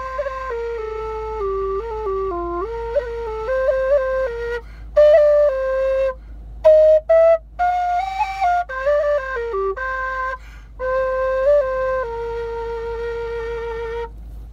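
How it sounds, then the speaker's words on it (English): A Becker low F tin whistle plays a solo melody alone, with clear sustained notes, some slides, and short breaks between phrases. "Low F whistle just for the fun of playing"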